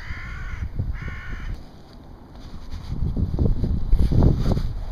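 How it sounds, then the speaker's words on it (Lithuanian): A crow caws twice in short, close, harsh bursts, then outdoor rumble and wind noise rise over the rest of the moment, with no one speaking. "Varna sako iki."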